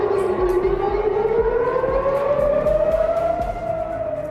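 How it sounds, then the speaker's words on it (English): An air-raid siren wails across Israel at night, one loud, steady rising tone that climbs gradually and holds, sustained without pause. "Overnight sirens blaring across Israel"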